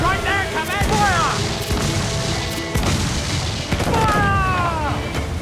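Broadside cannons on a sailing warship in Assassin's Creed IV Black Flag fire in repeated heavy booms that rumble into one another, with shouted crew commands mixed in.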